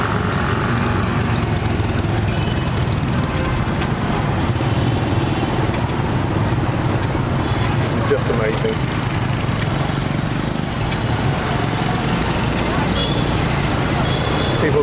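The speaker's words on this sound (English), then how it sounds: "People riding on motorbikes and they're just going in all directions around the city." Dense, steady engine drone of busy Hanoi street traffic with motorbikes buzzing around in all directions, with a person talking over it.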